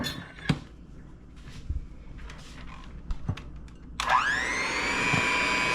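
An electric mixer starts up near the end and whirs steadily, beating a separated egg yolk in a bowl for lemon meringue pie filling, after soft kitchen clatter and a few light knocks.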